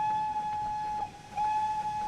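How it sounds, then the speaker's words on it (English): Steam locomotive whistle in the Train Sim World 3 railway game: a sustained, steady, loud tone that dips briefly in the middle and then resumes, over faint rumbling. "That's the horn."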